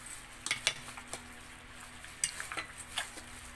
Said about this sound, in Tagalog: Haluin natin po mga ka-vlog.